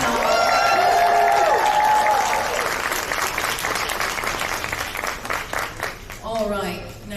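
Applause and cheering from a live convention panel crowd fill the space loudly at first, then thin into scattered claps and chatter, with a voice speaking over the tail end.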